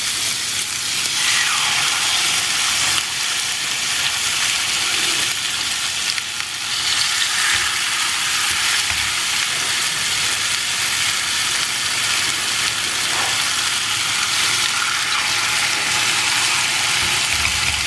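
Grilled chicken fries in oil in a pan, giving a loud, steady sizzle with occasional stirring and crackle throughout and no voices.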